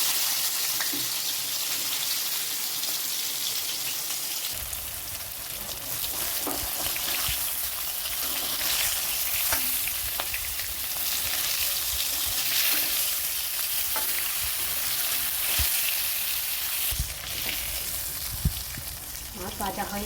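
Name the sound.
hilsa fish frying in a pan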